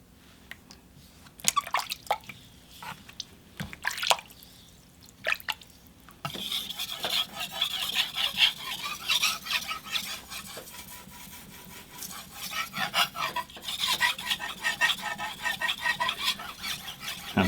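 A knife is sharpened on a King whetstone, with scattered scrapes and taps at first, then continuous rhythmic grinding strokes, close and fairly quiet, with no talking.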